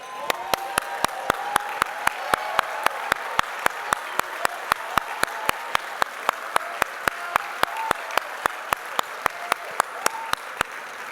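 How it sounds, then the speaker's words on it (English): Banquet crowd at the 2024 Tennessee Sports Hall of Fame dinner applauding as past inductees stand, with sustained applause and sharp, evenly spaced claps close by cutting through it for over ten seconds. "will you all please stand for a round of applause?"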